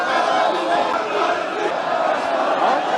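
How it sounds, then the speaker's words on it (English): A large crowd of Shia Muslims chants in the streets of Iraq during a funeral procession, a dense, continuous roar of many voices with rhythmic shouting, loud and sustained throughout. "Chanting "Death to America," the crowds of Shia Muslims took to the streets in Iraq, vowing revenge"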